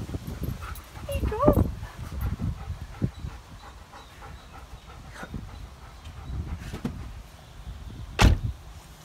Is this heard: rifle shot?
no